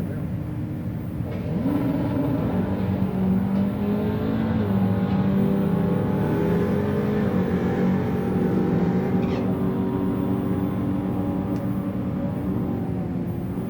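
A 1991 Ford Mustang and a 1967 Chevrolet Camaro drag race at a Wednesday night drag strip, giving a sustained, loud engine roar whose pitch climbs and shifts through the run over a constant rumble.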